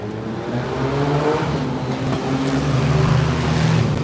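Continuous low engine rumble with steady droning harmonics, like loud vehicle exhaust from passing traffic on a street, fairly close and unbroken throughout.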